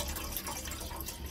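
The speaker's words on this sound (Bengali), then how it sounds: "দিয়ে দিলাম দুধের মধ্যে জল দিয়ে" Water pours softly into milk in a pot for tea, a short, faint, continuous splashing and trickling with no voices.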